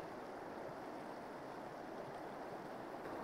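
Fast river water rushes in a steady, faint broadband wash for a few seconds, continuous and without breaks, heard at a distance from a fishing spot with no talking.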